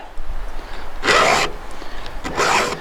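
Chainsaw chain being sharpened with a hand file, two distinct rasping strokes about a second and a half apart, close and clear against a quiet background.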